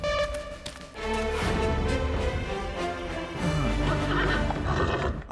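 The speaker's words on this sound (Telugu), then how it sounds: "ఆఖరికి ఈ గుర్రాలు కూడా నన్ను చూసి నవ్వుతున్నట్టు అనిపిస్తోంది" Several horses neigh and whinny in loud, overlapping calls that rise and fall across a few seconds, with heavy low rumbling underneath.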